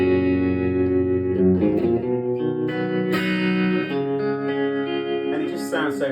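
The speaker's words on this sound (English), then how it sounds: "So next I'm going to go to the tremolo." Guitar through a tremolo pedal rings out sustained chords whose volume pulses rapidly, with bright strums and some reverb tail, close and fairly loud.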